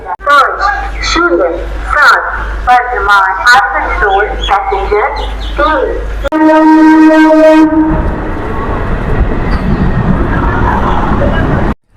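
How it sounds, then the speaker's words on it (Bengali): A morning train pulls into platform three of Durgapur station, with talk over the rumble before a long, loud horn blast and a steady rolling clatter afterward. "আমাদের ট্রেন কিন্তু এসে পৌঁছাবে হচ্ছে দুর্গাপুর স্টেশনের তিন নম্বর প্ল্যাটফর্মে"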